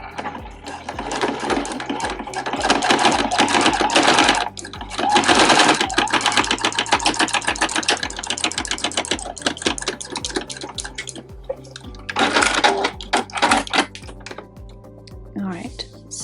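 A sewing machine runs in bursts while stitching a row through the fabric panels of a zipper pouch made from scraps, with short pauses between runs and a voice talking over parts of it.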